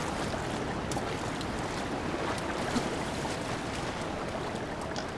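River water rushes steadily in Zelda Breath of the Wild, a constant broadband wash like flowing current or surf with light gusty texture and faint scattered clicks, with no talking.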